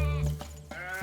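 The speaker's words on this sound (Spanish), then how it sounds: "Moisés estaba cuidando las ovejas de Jetro" A sheep gives one loud, close, wavering bleat, tonal and slightly nasal, lasting about a second with no other sounds around it.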